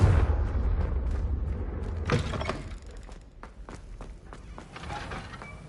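Confringo spell explosion in Hogwarts Legacy: a deep boom at first, then a crackling burst and scattered debris-like clatters and footsteps, moderately quiet.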